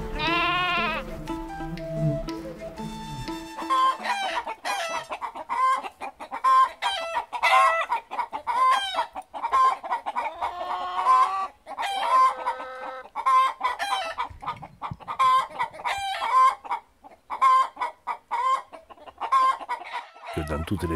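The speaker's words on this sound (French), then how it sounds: "c'est agréable d'entendre chanter ces poules, ces coqs" Hens cluck and roosters crow repeatedly in a farmyard chorus, overlapping calls coming in bursts at a moderate distance.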